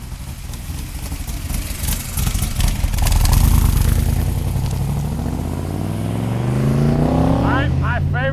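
A 1965 Shelby Cobra Backdraft with a 427 Windsor V8 drives along, its engine holding a loud, steady low rumble that swells and rises in pitch as it accelerates, with faint bird chirps near the end.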